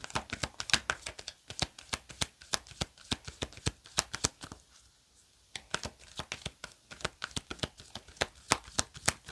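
Tarot cards being shuffled in a steady, rapid run of crisp riffling flicks, close and fairly loud, with a brief pause in the middle before the shuffling resumes.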